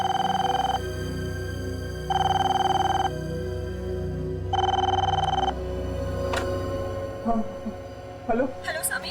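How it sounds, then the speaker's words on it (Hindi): A telephone rings three times in steady, evenly spaced bursts, followed by a few clicks and knocks as the ringing stops. "किसका फोन हो सकता है?"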